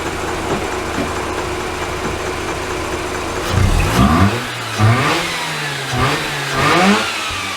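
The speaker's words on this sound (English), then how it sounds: "I'm going to give it a couple of revs now." A Mazda RX8 rotary engine, just fitted with a replacement oil cooler line, idles steadily and is then revved up about four times in quick, loud bursts, with each rev climbing and falling back to idle.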